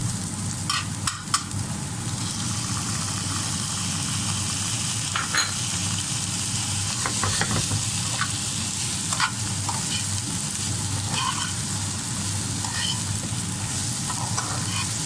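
Okra and onions sizzle steadily in a pan while tomato goes in, a close, continuous fry hiss broken by scattered clicks and scrapes of stirring.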